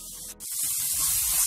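Onions and tomatoes frying in a pan for aloo chaat give a steady, close hiss of sizzling that runs throughout, with a brief dip near the start before the sound swells again.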